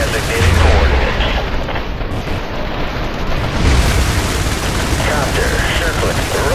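Airstrike explosions in the video game IS Defense, heavy continuous booming and rumbling gunfire filling the mix loudly throughout, with a radio-style voice speaking over part of it.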